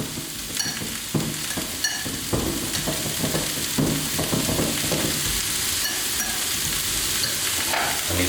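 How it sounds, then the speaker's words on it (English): Oats stirred into boiling water, with close scraping and clinking strokes of a spoon against the bowl over a wet, bubbling hiss. "Stir it up."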